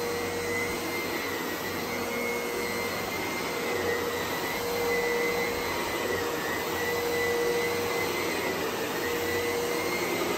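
A Clean Obsessed C0888 canister vacuum runs steadily over carpet, a loud constant whirring drone with a high motor whine that holds level throughout, no voices.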